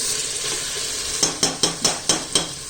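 Chicken biryani masala stirred in a sizzling pot, Nellore-style home cooking: a steady frying hiss broken by about seven quick, evenly spaced scraping strokes of a spoon against the pan, close and clear.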